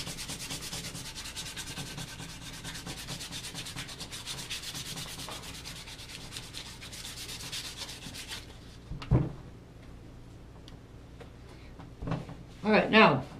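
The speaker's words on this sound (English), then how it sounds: "we want to light sand it with our 220" Fine 220-grit sandpaper rubs steadily across a repaired break, a continuous close scratching hiss for several seconds that stops, followed by a few quiet handling knocks and scrapes.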